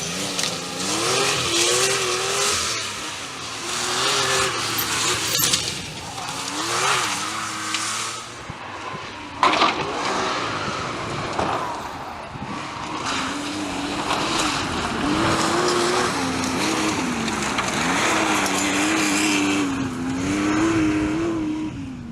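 A Tuttle-prepared Porsche 911 historic rally car on the Mid Wales Historic Rally 2005, its engine rising and falling through gear changes as it drives past at close range, loud and continuous with no talk.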